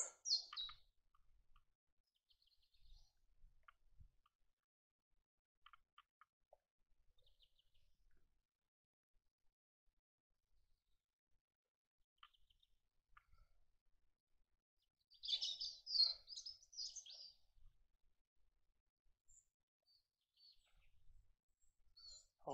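Birds chirp faintly and sparsely near a ford on Conic Hill by Loch Lomond, scattered distant calls in near silence with a brighter burst of song partway through.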